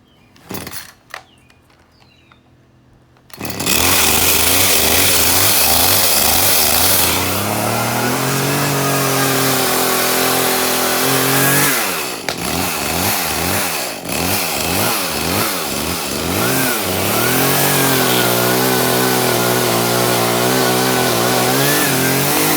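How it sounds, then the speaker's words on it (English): A chainsaw engine sputters to life after a few quiet knocks, then runs loud and steady, revving up and down repeatedly close by, started on a ladder while trimming queen palms. "is trying to start the chainsaw while on the ladder"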